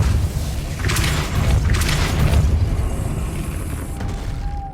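Spell casting effects in Hogwarts Legacy sound as loud, sustained whooshing bursts over a rumbling low bed, with two brighter swells early and a thin tone near the end.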